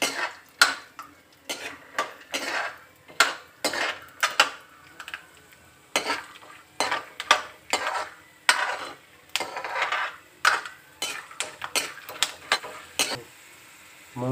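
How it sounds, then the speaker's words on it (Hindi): Peanuts frying in hot mustard oil for homemade poha, stirred with a utensil against the pan in quick irregular scrapes and clinks over a soft sizzle, close and fairly quiet. "तो मूंगफली हम डाल दिए हैं और इसको हम तल देते हैं, और ये सुनहरा होने तक,"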